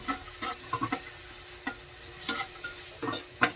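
Onion and garlic sautéing in a pan, a steady close sizzle broken by repeated scraping stir strokes and light spatula clicks, with no voices.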